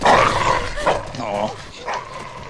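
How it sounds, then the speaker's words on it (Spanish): Dog barking in The Walking Dead video game, a few sharp barks and yelps near the start, then quieter sounds under game dialogue and other audio. "Este perro como que estaba infectado también."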